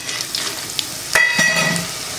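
Dried berries dropped into hot oil with fenugreek, with a short clatter and then a crackling, bubbling sizzle settling in close by.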